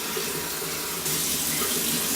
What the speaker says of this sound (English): Now I'm going to rinse the vase.